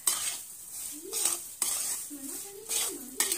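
Semolina being roasted in a pan for sheera, slow rhythmic scraping sweeps of a spoon across the pan bottom, each pass ending in a soft clink, with a faint sizzle, close and quiet.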